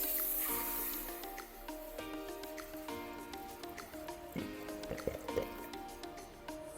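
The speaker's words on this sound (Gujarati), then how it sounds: "તપેલીમાં એક લીટર પાણી રેડીશું" Water is poured into a cooking pot to make khara pongal, a steady splashing fill with scattered drips and small clinks, close and moderately quiet with no talking.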